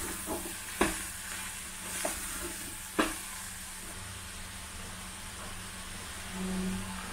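Cabbage and vegetables with salt and vinegar cooking on full flame for atta veg momos: a soft, quiet hiss with three sharp utensil knocks spaced across it.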